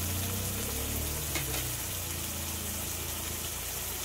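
Shrimp frying in a pan with a little salt and turmeric, giving a steady, close, even sizzle and hiss that runs unbroken throughout, with no voices.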